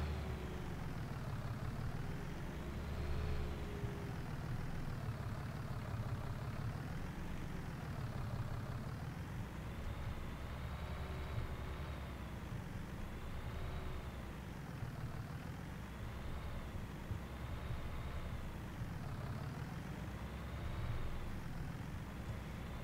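A farm tractor's engine runs steadily nearby after the hay tedder has been unhooked, a constant low diesel drone that rises and falls slightly in a slow, even rhythm with no talking.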